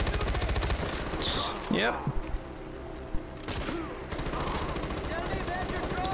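Gunfire in the video game Far Cry 4 from a gun with a large magazine, rapid bursts running through most of the stretch amid game effects, with a voice speaking briefly over it.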